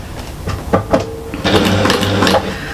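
A sewing machine stitches fabric layers for a bag, with a loud close motor whir that starts in short stuttering bursts and then runs in a steadier, faster stretch before easing off.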